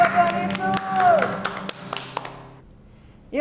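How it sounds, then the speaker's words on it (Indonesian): Children at a Sunday school worship service clap their hands, a run of sharp irregular claps close by over a held musical tone and faint voices, thinning out before a brief quiet. "Ya, tepuk tangan buat Tuhan Yesus."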